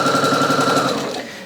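Sewing machine stitching around a fabric circle, a loud close rapid mechanical whirr with fast even needle pulses and a whining tone that slows and fades as the machine stops, with no voices.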